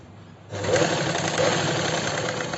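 A sewing machine runs steadily while stitching a princess-cut kurti, starting abruptly after a brief quiet moment and then keeping up a continuous close mechanical whir.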